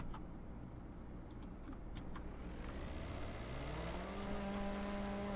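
ACF engines in Garry's Mod rev up, a low engine hum rising steadily in pitch into a louder sustained whine, close and alone.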